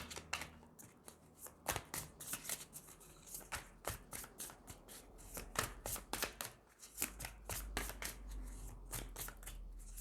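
Tarot cards for a cross spread are shuffled by hand in rapid, uneven bursts of crisp riffling and slapping, close and fairly quiet.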